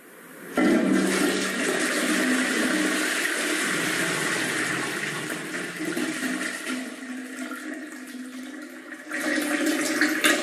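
A toilet flushes with a sudden, loud rush of water that swirls and churns steadily for several seconds, then surges again briefly as the tank refills. The sound is close and plays alone.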